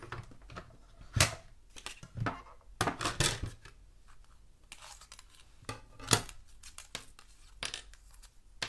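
Paper is cranked through a Bumblebee die-cutting machine, giving a run of dry, scraping, crinkling bursts and clicks at an uneven pace, close and fairly loud with no talking.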